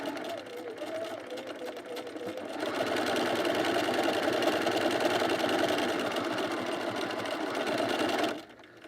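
Sewing machine stitching a buttonhole end bar tack on a pajama top, a steady close mechanical whir that runs faintly at first, grows louder and holds for several seconds, then stops abruptly near the end.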